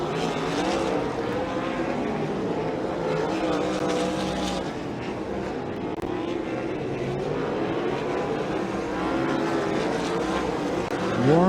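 Sprint cars in an ASCS Frontier Region race roar around Electric City Speedway, a dense, continuous engine drone with shifting pitch as cars pass through the turns, loud and sustained throughout, rising slightly near the end.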